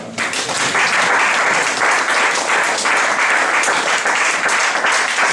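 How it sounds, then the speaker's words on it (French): A church congregation at a Sunday sermon breaks into loud, dense applause with cheering, a steady roar of many hands clapping continuously throughout, close and full. "Nous pouvons acclamer le Seigneur."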